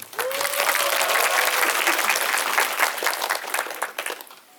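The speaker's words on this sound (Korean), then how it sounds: "박수" Audience applause at a film Q&A screening of the Korean film 'Brave Citizen', a full, bright burst of clapping that swells and holds for several seconds before tapering off.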